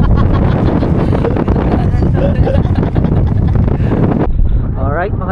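A small outboard boat motor drones steadily on the water off Puerto Galera, with heavy wind buffeting the microphone and people talking over the engine noise.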